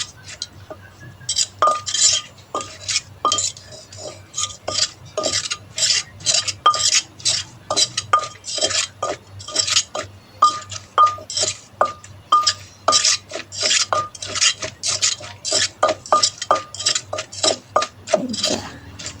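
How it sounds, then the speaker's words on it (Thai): Rhythmic, repeated thuds and clinks of a pestle pounding straw mushroom soup ingredients in a mortar, about two strikes a second, close and steady throughout. "ตำไปสักพักละจ้ะ จนกว่า ส่วนผสมมันไม่สิเข้ากันเนาะ"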